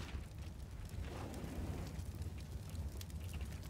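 A molotov fire burns in Counter-Strike on the Cobblestone map, giving a steady roaring, crackling whoosh of flames that holds throughout at moderate loudness, with no talking.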